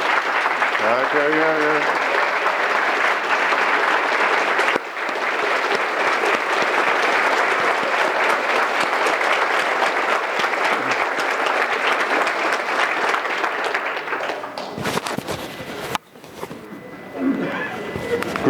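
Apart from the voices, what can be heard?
conference audience applauding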